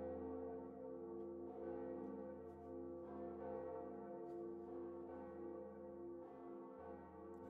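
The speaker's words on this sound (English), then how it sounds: "I don't forget to ring the bell." A bell rings in the Dark Souls video game, its deep, sustained tolling layered over a rich drone that continues steadily for the whole stretch at moderate volume, with no voices.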